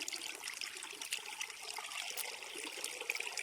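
A small creek crossing on a dry, dusty trail, with water trickling and babbling softly in a continuous, faint wash and no voices.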